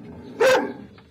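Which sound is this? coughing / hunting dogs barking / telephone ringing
hunting dogs barking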